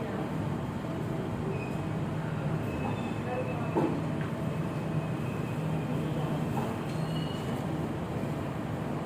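A Jakarta MRT train bound for Lebak Bulus runs along with a steady, dense rumble and hiss inside the car, unbroken and fairly loud throughout, with faint high squeals now and then.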